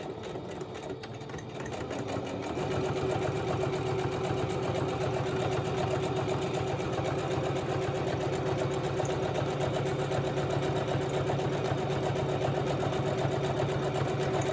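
A home sewing machine stitching a zigzag runs at a steady, even whir that starts softer and settles into a continuous drone after a couple of seconds. Nobody speaks.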